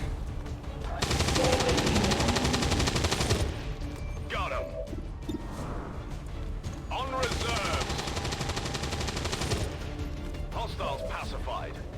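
Overwatch gunfire in the video game XCOM: sustained bursts of rapid automatic shots, loud and close, with a pause between volleys and talk over parts of it.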